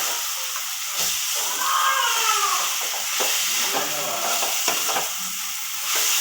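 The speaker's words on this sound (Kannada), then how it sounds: "ಅವೆಲ್ಲ ಫ್ರೈ ಆದಮೇಲೆ ನೀಟಾಗಿ ಸ್ವಲ್ಪ ಈರುಳ್ಳಿ ಎಲ್ಲ ಬ್ರೌನ್ ಕಲರ್ ಬರಬೇಕು." Onions browning in a hot pan give a steady frying sizzle with bursts of stirring clatter, close and fairly loud, with no speech.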